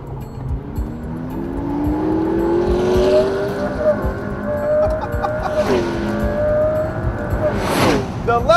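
A McLaren P1 in race mode accelerates through a wet corner, its engine note climbing steadily in pitch, then dropping sharply at gear changes before rising again, loud and close.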